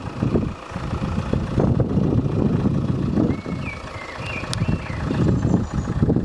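A 2014 Vauxhall Insignia Elite with a bi-turbo diesel engine and automatic gearbox idles outdoors, a steady low rumble with wind buffeting the microphone and a faint high tone briefly rising above it, no voices.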